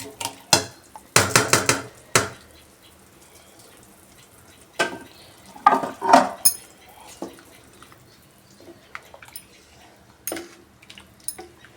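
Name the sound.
washed bullet rice being added to a pot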